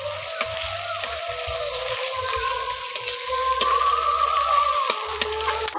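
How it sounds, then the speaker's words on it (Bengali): Chopped garlic, ginger and onion fry in a pan with a steady, close sizzle and crackle, broken by the scrape and clatter of stirring, and no one speaks. "আদা কুচি রসুন কুচি পেঁয়াজের সঙ্গে একটু অল্প করে ভেজে নিচ্ছি।"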